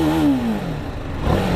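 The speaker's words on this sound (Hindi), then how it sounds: "ओके, तो अर्बन मोड में रेव लिमिटर हमें 9K तक ही दिखा रहा है।" TVS Apache RR310 BS6 motorcycle in urban mode revving hard against its rev limiter around 9,000 rpm, a loud, close engine note that drops briefly and then surges again, with no talking.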